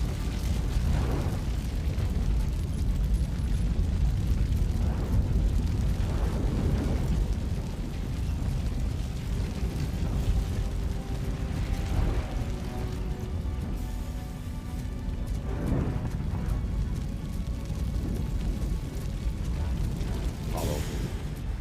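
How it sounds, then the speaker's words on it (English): A fire blocks a passage in RoboCop: Rogue City, giving a steady loud roar with rumbling low end and occasional deep booms and bursts throughout, with a voice faintly under it. "Fire is blocking the way."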